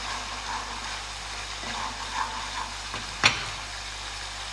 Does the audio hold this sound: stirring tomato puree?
yes